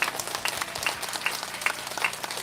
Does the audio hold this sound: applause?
yes